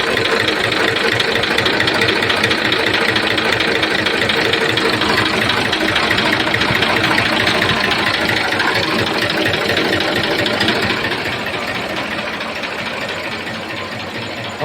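A Massey Ferguson 7250 farm tractor engine runs steadily at a close, loud idle with an even knocking chug that holds throughout, easing slightly in level near the end; no talk.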